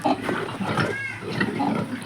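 Pigs grunting and snorting up close, a few short low grunts in quick succession with faint background noise.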